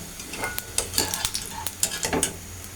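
Semai pakora fries in hot oil with a steady bubbling sizzle, broken by clinks and scrapes of a utensil against the pan, close and moderately loud.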